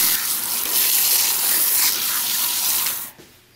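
Lukewarm water runs steadily from a tap during a hair shampoo, a close, continuous broadband hiss that holds for about three seconds, then drops off abruptly near the end.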